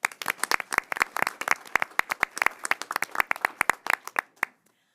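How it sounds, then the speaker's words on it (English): Audience applause at a school board meeting honoring retired school nurses, a dense burst of sharp hand claps that fades out near the end, no talk over it. "Please give them a round of applause."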